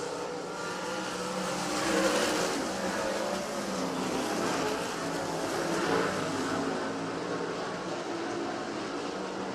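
Race cars circle a dirt oval, their engines a dense, continuous roar that swells and fades slightly as the cars pass, heard at moderate distance without any talk.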